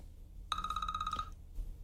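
A telephone rings in a radio studio with one bright trilling burst of bell tones, clear and close, lasting under a second before cutting off into quiet room noise.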